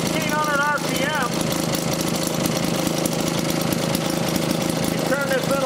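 An unidentified old engine running at 1600 RPM with a steady, even mechanical chugging close by, while brief chirping tones rise and fall over it.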